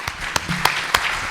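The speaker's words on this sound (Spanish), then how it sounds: "les pido a todos que despidamos con un muy fuerte aplauso" A few hands clap in short, sharp, evenly spaced bursts at the close of a Spanish-language Q&A session on the global food crisis. The claps sound moderately close and thin rather than a full crowd ovation.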